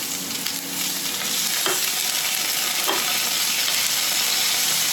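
Anchovies sizzle in a pan over low heat alongside spring onion, a constant bright hiss with a few faint stirring scrapes and no talk.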